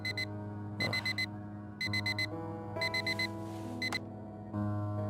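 An alarm clock in the video game Fragments of Him rings in loud, close bursts of rapid beeping, four quick beeps per group repeated several times over a low steady hum.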